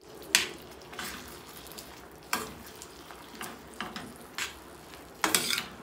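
Lemon pickle being stirred together with chili powder in a pan on low heat: soft scraping and scattered light clinks of a spoon against metal, irregular and fairly faint.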